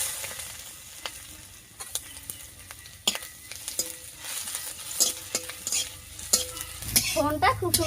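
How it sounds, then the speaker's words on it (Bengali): Dried red chillies, bay leaf, whole cumin and crushed ginger sizzle in hot mustard oil, a steady close crackle broken by repeated scraping stirs of a spoon against the pan, louder and busier toward the end. "তেল গরম হয়ে গেছে, এবারে তেলের উপর দিয়ে দিচ্ছি শুকনো লঙ্কা, তেজপাতা, গোটা জিরা আর থেতো করা আদা।"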